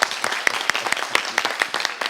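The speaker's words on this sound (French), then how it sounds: "Je vais vous demander de vous applaudir bien plus fort." Applause from a television studio audience, a lively burst of many hands with a few sharp, distinct claps standing out, sustained and close throughout the short stretch.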